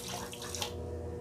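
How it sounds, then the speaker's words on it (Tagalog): Water poured into a clogged toilet drain makes a steady, close rushing splash that runs unbroken for the whole short stretch, with no voices. "Buhusan natin ng tubig para makita nyo yung scam talaga."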